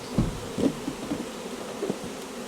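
Bees buzz around package bee hives in a steady close drone, with several louder passes as individual insects fly near, and no voices.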